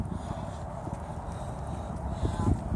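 Hooves of a horse being ridden clip-clop at a slow, steady walking pace, soft and somewhat distant beneath faint outdoor background noise.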